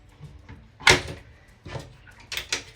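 Storage drawers beneath the chairs in the cabin of a 2024 Elan Impression 43 sailboat sliding open, a sharp wooden knock and rumble followed by a softer slide and a couple of light clacks near the end.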